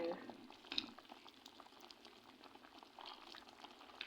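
Chicken puchero with beans and liver bubbles steadily in a pot, a soft continuous simmer with faint clinks close by.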